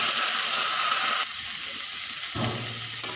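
Kohlrabi leaves frying in a pan, a steady bright sizzle for over a second that drops to a softer hiss, then a low rumble and a brief clink near the end.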